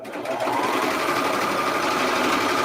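A sewing machine runs continuously while stitching elastic onto pajama pants, giving an even, close mechanical whir that stays steady throughout.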